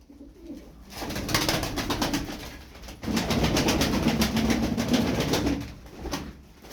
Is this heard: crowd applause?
no